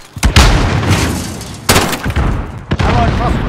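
A stun grenade goes off during a Call of Duty: Modern Warfare match. Loud booming blasts and bursts of gunfire fill the scene, with a few sharp heavy detonations close together.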